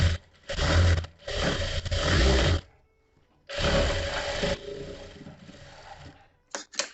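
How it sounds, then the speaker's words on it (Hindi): A sewing machine stitches the corner of a princess-cut blouse in two long, loud runs split by a pause, then two short bursts at the end. "इसमें अब मैं एक कॉर्नर पे नीचे सिलाई लगा दूंगा"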